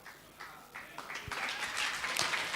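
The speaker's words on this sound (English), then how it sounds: "Let's clap for him once again." Audience applause for the speaker at a memorial lecture, starting with a few scattered claps and swelling into dense, steady clapping from a crowd in a hall, with some voices mixed in.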